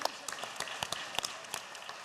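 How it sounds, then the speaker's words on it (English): Scattered applause fills the State House chamber during a legislative session, a brief patter of individual claps rather than a dense ovation. "Let's give them a round of applause."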